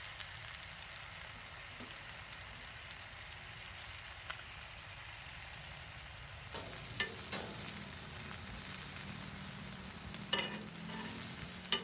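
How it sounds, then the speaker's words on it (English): Onions and peppers for chicken fajitas cooking on an outdoor grill, a soft steady crackling sizzle that grows busier midway, with a few faint clicks and scrapes and no talking. "now that our onion's starting to cook down pretty good"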